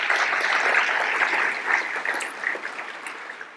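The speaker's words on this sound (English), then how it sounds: "Let's give these guys a round of applause." Audience applause for sponsors at a business hall of fame dinner, a steady crowd of clapping hands that holds for a few seconds and then slowly thins out.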